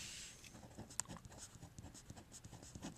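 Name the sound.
writing out an equation by hand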